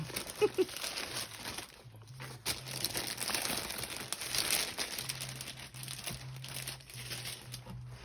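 Tissue paper being crumpled close up, with soft continuous crinkling and rustling that swells and fades over several seconds, marked by a few sharper crackles and a faint background hum.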